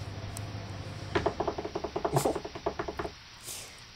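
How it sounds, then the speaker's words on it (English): A character in the video game Deadly Premonition walks with soft, springy, cartoonish footsteps, about a dozen evenly spaced padded thumps in a quick steady rhythm before they stop. "It's a very Muppety sort of footstep you're creating there."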